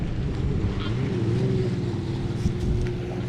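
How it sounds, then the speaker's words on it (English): A jet ski drones steadily in the distance off a beach, its engine hum blending with wind buffeting the microphone and the wash of water. "guy on a water jet ski going out there"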